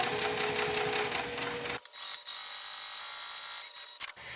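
Sewing machine basting an add-on piece of fabric, a fast close mechanical whir that runs for nearly two seconds, then a quieter hum with a few clicks.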